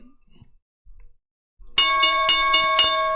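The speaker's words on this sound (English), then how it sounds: "let's get to the opening bell" An opening bell sound effect on a stock market podcast rings out after a short quiet stretch: a bright metallic bell struck repeatedly in quick succession, loud and clear with sustained ringing tones.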